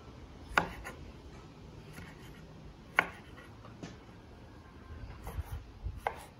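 A knife cuts through backyard tomatoes on a board, giving a few distinct sharp slicing strokes spaced seconds apart, with softer scraping between them, close and fairly quiet.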